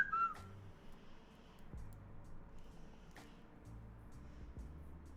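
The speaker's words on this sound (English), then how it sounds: "I did the crazy whistle." A person gives a short, crazy-sounding whistle right at the start, a quick high tone that fades into a quiet, murmuring room.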